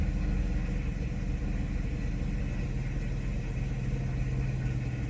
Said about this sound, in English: As we see, our idle speed is correct. And again, this is cold start.